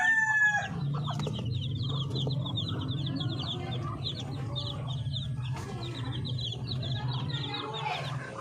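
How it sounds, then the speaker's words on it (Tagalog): Chicks and hens on a small farm cluck and peep steadily, the soft murmuring clucks low and continuous while high chick chirps repeat throughout, close by and without talk. "At yung ating mga sisiw."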